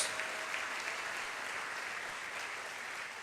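Church congregation clapping during an evening service, a faint, steady wash of applause from across the room that fades slightly over a few seconds.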